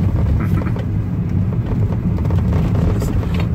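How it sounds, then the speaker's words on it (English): A car approaching on a street in the Bahamas, a steady low engine and road rumble that stays loud throughout, with a voice faintly present beneath it. "Y'all, they a car coming."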